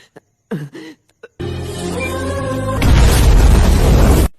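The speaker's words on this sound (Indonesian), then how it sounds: "oven yang dipenuhi gas pun langsung meledak." After a few faint sounds, a rising tonal hum builds, then a loud, roaring explosion of a gas-filled oven bursts out and sustains to the end.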